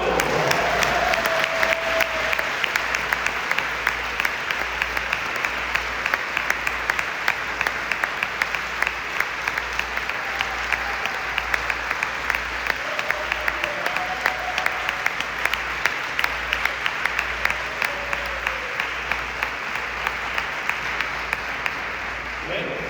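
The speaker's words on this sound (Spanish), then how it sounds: "¡Aplausos!" A church congregation at a Bible workshop applauds in a sustained, dense burst of clapping with crowd noise mixed in, loud and continuous for over twenty seconds, with a low steady hum underneath.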